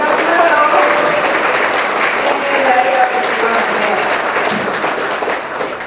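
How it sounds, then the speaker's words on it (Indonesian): A large crowd applauds at the PDIP party's 52nd anniversary celebration, sustained close clapping that tapers slightly toward the end, with voices talking over the applause. "Ayo tepuk tangannya deh,"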